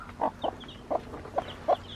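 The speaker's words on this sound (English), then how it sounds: "I think seven little baby chicks." A hen clucking among her seven baby chicks: five short, close clucks spaced at an even, unhurried rhythm over two seconds, with faint higher chirps between them.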